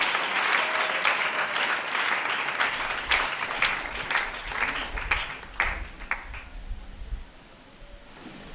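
A church congregation applauds loudly and steadily, with a few cheers mixed in, before the clapping thins out and fades near the end.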